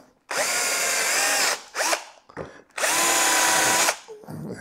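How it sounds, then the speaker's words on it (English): A power drill pre-drills holes in a wooden drop-leaf desk top, with two long, loud, close bursts of high whirring separated by short clatters and handling sounds. "Now it's a matter of pre-drilling."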